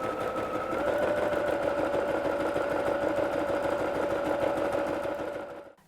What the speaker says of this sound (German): Das Ganze steppen wir einmal mit einem Zickzackstich an der Außenkante ab.